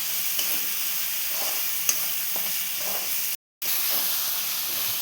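Girmit mandakki ingredients, a puffed-rice snack mix, fry and get mixed in a pan: a steady close sizzle and hiss with occasional stirring clicks and one brief dropout.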